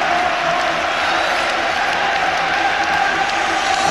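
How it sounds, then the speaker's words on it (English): Rangers supporters applaud at the end of a home football match against Kilmarnock, a steady roar of clapping and crowd noise from a big stadium audience heard throughout. "applauding the Rangers fans."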